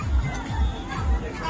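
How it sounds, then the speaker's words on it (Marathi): Crowd chatter fills a busy Konkan festival ground, a steady murmur of many voices with low thumps rising and falling underneath. "गर्दीच गर्दी."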